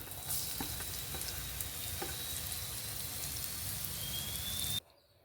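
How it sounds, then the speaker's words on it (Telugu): Grated raw mango fries in a pan with hing for mango pulihora, a steady close sizzle with light stirring ticks that cuts off abruptly near the end. "పచ్చివాసన పోయే వరకు వేయించుకోవాలండి"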